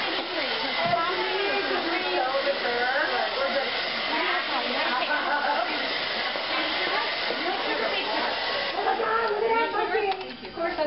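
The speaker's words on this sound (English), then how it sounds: "when I blow dry up against my hair, it gets flying all over" A hair dryer blows on hair in a steady, loud hiss with a whooshing airflow that holds throughout and dips briefly near the end.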